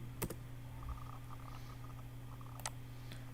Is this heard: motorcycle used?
no